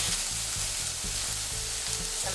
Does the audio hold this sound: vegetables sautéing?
yes